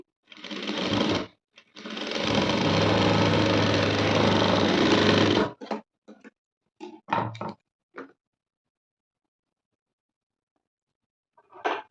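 Sewing machine stitching blouse fabric for a Chinese-collar blouse, with a short burst followed by a long steady whirring run of about four seconds, then a few brief clicks and handling taps before near silence.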